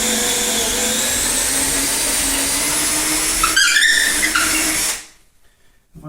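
A power drill bores a 3/4 inch hole through wood for a 50mm pipe in an abandoned apartment, running as a steady loud whine with a brief change near the end before it stops abruptly into near silence.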